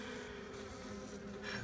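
Honey bees buzz softly around an open hive colony weakened by chalkbrood disease, a faint, steady, close drone of many wings with a few louder passes near the end.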